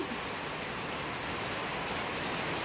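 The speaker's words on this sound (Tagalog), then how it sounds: "Sobrang lakas ng ulan." Heavy rain pours down in a Philippine province during flooding, a dense, even hiss of downpour that holds steady throughout with no voices.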